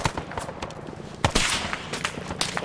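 Enemy gunfire in the military game Arma, rapid automatic bursts and sharp single shots crackling close and loud in quick succession, with a heavier report partway through.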